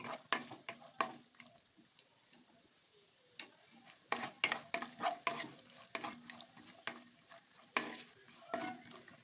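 Cashews fry over a low flame, a soft, quiet sizzle beneath frequent quick scraping and tapping stirs of a spoon in the pan, in irregular bursts.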